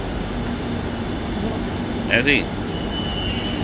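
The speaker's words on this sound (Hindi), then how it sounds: "ये मैड्रिड का मेट्रो स्टेशन" Steady mechanical hum and rumble of a metro train in an underground station in Madrid, Spain, with a brief voice speaking partway through.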